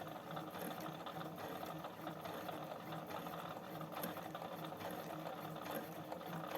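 A Brother FS40 sewing machine runs continuously while sewing smocked fabric, a faint, even mechanical whir with a steady rapid needle rhythm and no pauses.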